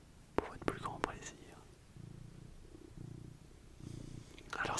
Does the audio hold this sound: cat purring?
yes